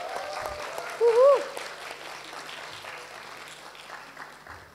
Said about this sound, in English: Give a big round of applause to all our 17 contestants.